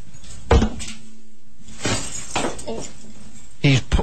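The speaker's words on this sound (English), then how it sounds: "All the glass coming out of his suit." Broken glass bulbs spill out of a stunt suit as it is pulled off, giving scattered clinks and tinkles at close range, mixed in among people talking.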